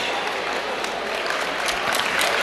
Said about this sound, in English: they get a standing O from a lot of the crowd here